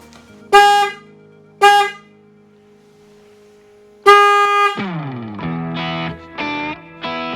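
Two short loud blasts from a Denali Sound Bomb Mini horn on a Honda Transalp motorcycle, then a longer sustained honk that bends downward into a few wavering tones, close and harsh.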